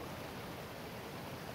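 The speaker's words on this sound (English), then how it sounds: "so to the right is the waterfall, and deep down is the big pool of water" McCloud Falls pours into a deep pool below, a faint, steady broadband rush of falling water heard from a distance with no break or change.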